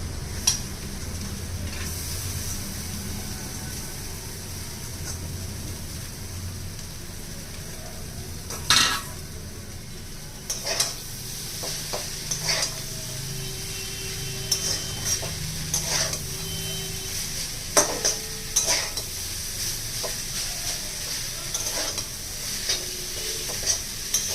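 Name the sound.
stir-frying chowmein noodles with vegetables in a pan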